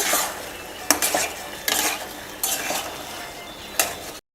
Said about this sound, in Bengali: মাংসের যে চিকেন যে ফ্রাই করেছিলাম সেগুলো অ্যাড করলাম, দিয়ে একটু ভালো করে নাড়াচাড়া করে নেব।